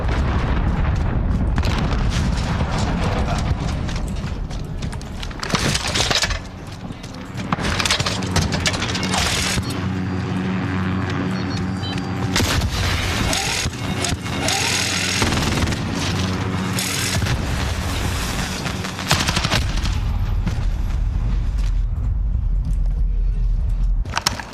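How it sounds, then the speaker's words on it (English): Repeated heavy booms and blasts from cruise missile strikes in Call of Duty Modern Warfare hardcore multiplayer, loud and dense across the whole stretch, mixed with gunfire, game mechanics and announcer voice lines. "Allied cruise missile launched."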